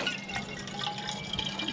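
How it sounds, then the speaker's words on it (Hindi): Water runs steadily into bottles at a forest campsite in winter, a continuous low splashing and trickling pour, close and fairly quiet, with no voices. "अब सारी बोतल यहीं भर लिए जाएंगे"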